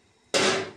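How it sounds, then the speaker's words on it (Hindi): A lid is set onto a cooking pot with a single sharp metallic clack that rings briefly and fades, alone and close by. "ढक्कन लगा कर"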